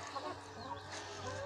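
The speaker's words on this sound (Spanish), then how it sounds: "Ya nacieron los primeros pollitos." Newly hatched chicks peeping faintly and continuously in the background, soft and distant against a steady low hum.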